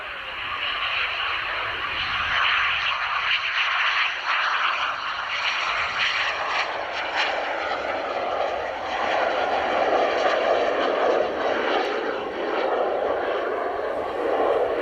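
Display aircraft returning to land at East Midlands Airport after its air festival display, a steady engine drone holding at moderate loudness throughout, fairly distant and unbroken.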